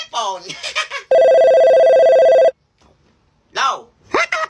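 A new cellphone rings with a loud, steady electronic ringtone lasting just over a second, set between stretches of people talking before and after it.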